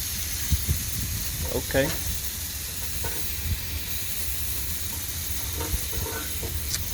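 Onion sizzling on a grill, a steady close hiss of frying with scattered crackles and utensil scrapes, while someone talks briefly over it.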